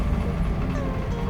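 Inside a moving bus on the road in West Java, a steady low engine rumble and road noise fill the cabin, continuous and fairly loud throughout.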